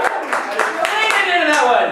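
An improv comedy audience cheers and whoops for a performer named Corina, with scattered clapping mixed into loud, overlapping crowd voices throughout.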